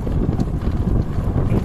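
Strong wind buffets the microphone at a shoreline fishing spot by the water, a steady low rumbling roar filling the whole moment with no voices.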